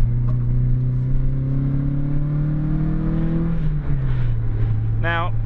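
Toyota AE86 Trueno engine on a mountain road, Mount Haruna, holding a steady drone from inside the car, pitch rising slowly and then dropping as the revs fall, with a short whine near the end.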